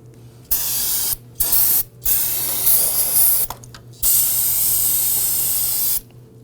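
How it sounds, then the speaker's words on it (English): Spray solvent blasting onto a 2008-2011 Ford Focus to clean off leaked brake fluid, several loud, close hissing bursts of varying length separated by short pauses, with a faint steady hum underneath. "I want to take some spray solvent and spray this down, cleaning up any of the brake fluid that might have leaked out."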